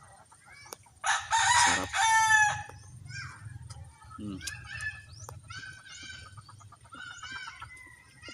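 Chickens in a garden crow and cluck nearby, with one loud crow followed by scattered calls, and a person speaks briefly.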